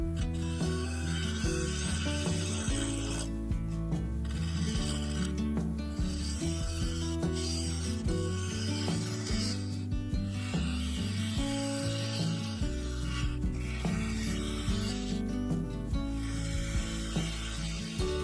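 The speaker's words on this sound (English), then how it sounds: "I used a 3/8 bowl gouge, shear scraping a curved undercut from the resin to the edge of the rim" A 3/8 bowl gouge shear scrapes a curved undercut across resin and sapele wood at a segmented bowl's rim on a spinning lathe, a steady continuous scraping and rubbing hum with rhythmic ticking, close and loud throughout.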